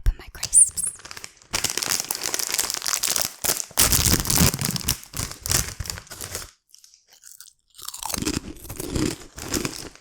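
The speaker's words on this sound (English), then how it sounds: "I'm just going to open my crisps." A crinkly bag of crisps is torn open and rustled up close in an ASMR setting, with loud, sharp crackling and crumpling in bursts, a brief quiet gap, then softer rustling.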